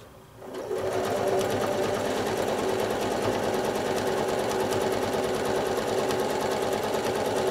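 A sewing machine travel stitches across a beginner nine patch quilt block, its needle running in a steady, fast, continuous whir that starts after a brief pause and stays loud and close throughout.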